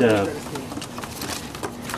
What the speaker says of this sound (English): some racing pigeons, and all except for this guy right here, who is a little wild pigeon that was hurt